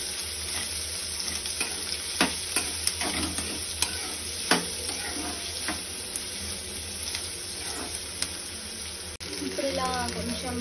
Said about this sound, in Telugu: లైట్గా 2 పచ్చిమిర్చి వేసుకున్నాం. ఇది బాగా బ్రౌన్ కలర్ వచ్చే వరకు ఫ్రై చేస్తున్నాం.